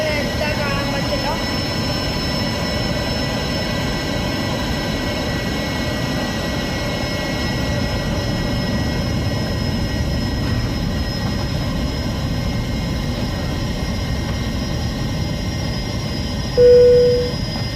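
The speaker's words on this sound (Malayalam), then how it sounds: "ഇനി നമ്മൾ ടേക്ക് ഓഫ് ചെയ്യാൻ പോവാം." Airliner jet engines spooling at full power for takeoff in a Cabin Crew video game, a steady loud droning roar with sustained tonal whine throughout, a voice talking over it.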